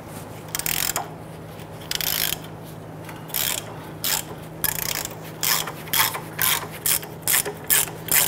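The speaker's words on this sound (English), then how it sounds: "Using a 21 millimeter socket or wrench, you can go ahead, loosen, and remove the bolt on the bottom here." A 21 mm socket wrench ratchets on the lower shock absorber bolt of a 2002-2008 Dodge Ram 1500, clicking in short bursts that quicken into a regular rhythm toward the end over a faint steady hum.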